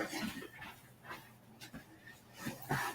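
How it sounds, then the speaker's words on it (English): A pet dog named Kobe whines and whimpers in soft, short, high-pitched bursts, fairly faint and intermittent against quiet room noise, with a couple of louder whimpers near the end. "my dog is whining"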